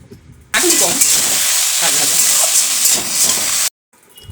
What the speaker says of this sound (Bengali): দিয়ে ভালো করে নেড়ে নেব নেড়ে নিয়ে আমি এটাকে ভাজতে থাকব